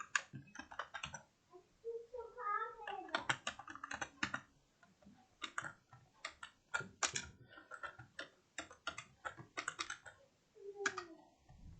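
JavaScript code being typed on a computer keyboard: uneven bursts of close, crisp keystroke clicks with short pauses between runs, plus a brief higher tonal sound partway through.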